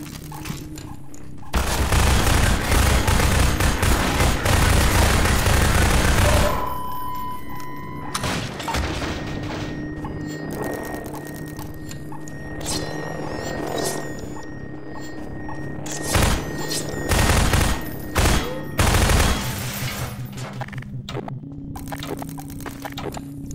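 Submachine gun fire in Half-Life 2 on PC, loud dense bursts with booming impacts in an intense opening stretch, then scattered sharper shots and bangs over a busy game soundscape with low ambient drone.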